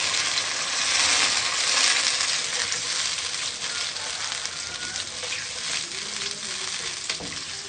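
Yogurt being stirred into a sizzling kofta curry in a pan, with steady loud frying hiss throughout and occasional spoon scrapes and clinks against the pan.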